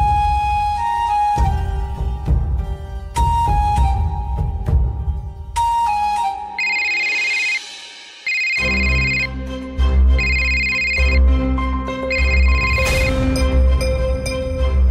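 Phone ringtone in a home scene of a Marathi TV serial, a steady melodic electronic tune of repeating tones that plays clearly for about fifteen seconds with no talk over it.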